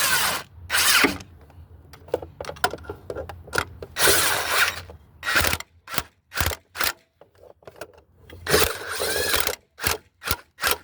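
A power tool tightens 13mm bolts on the engine mount of a 1997 Dodge Stratus 2.4L. It fires in short, loud, rattling bursts, with a few longer runs followed by rapid stop-start hits separated by silences.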